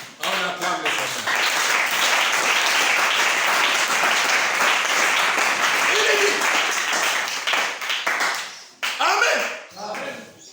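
A church congregation applauds loudly and continuously for about eight seconds, dense close clapping from many hands, tapering off with scattered claps as a voice speaks over the end.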